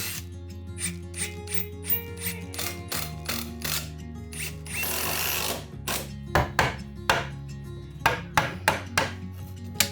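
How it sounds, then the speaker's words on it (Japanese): Screws being driven into wooden support pieces under a floor inspection hatch with a power driver, heard as a series of short whirring bursts with clicks and knocks in between, close by and without talk. "受け材だけはもうしっかりと打ってやります"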